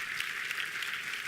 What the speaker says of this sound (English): Let's give a big applause to all our customers.